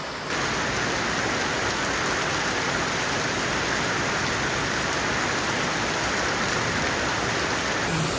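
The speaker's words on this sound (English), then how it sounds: "There is an absolute tropical downpour in this forest, and everywhere." A tropical downpour in a Kuala Lumpur forest, a dense, continuous hiss of heavy rain drumming on leaves and surfaces, steady and loud throughout with no voices.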